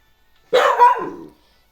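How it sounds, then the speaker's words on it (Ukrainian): A single loud dog bark, close by, a drawn-out husky woof lasting under a second, with silence around it. "не можна гавкати, я відео знімаю."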